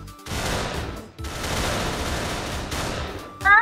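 Rapid gunfire bursts from the Pummel Party party game, two sustained volleys of dense shooting separated by a short gap, loud and close, with a sharper burst at the end.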